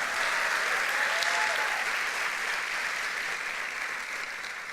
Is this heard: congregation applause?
yes